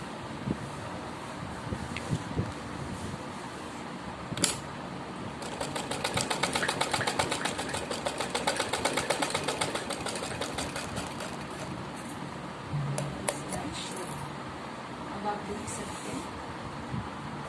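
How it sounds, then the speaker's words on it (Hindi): Sewing machine running a straight seam on a suit, a steady rhythmic stitching whir that builds for several seconds in the middle and then stops, with faint handling noises around it. "ये सीधी सिलाई हमने यहाँ लगा"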